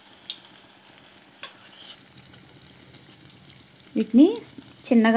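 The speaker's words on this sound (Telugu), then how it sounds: "ఇలా 2 వైపులా గోల్డెన్ బ్రౌన్ కలర్ వచ్చేలాగా ఫ్రై చేసుకోవాలి" Batter-coated pieces deep frying in oil, a soft steady bubbling sizzle beneath someone speaking briefly near the end.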